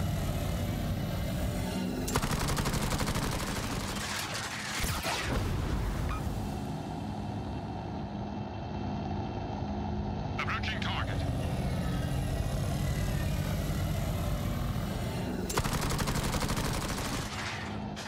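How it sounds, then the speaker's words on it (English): Machine-gun fire from attacking fighters in the World of Warships video game, with Star Trek-themed ships and aircraft: dense, sustained gunfire bursts over a steady engine drone, with game voice lines layered on top. "So as you can hear, it does have a machine gun animation"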